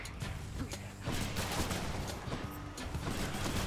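Trippy-shot gunfire in the video game Hades: dense, fast volleys of shots and impacts fire continuously, loud and close, with a faint voice underneath.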